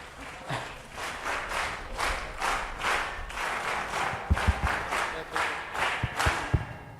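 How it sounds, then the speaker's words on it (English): An audience at a school youth talk event claps in a loose, rhythmic pattern of distinct bursts, fairly quiet overall, with occasional low thumps and some faint crowd noise in the background. "Give him a warm round of applause."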